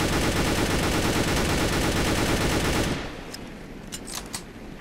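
A new gun in the Roblox Mad City video game fires in a rapid, continuous automatic burst for about three seconds, then stops abruptly, leaving quieter scattered game sounds.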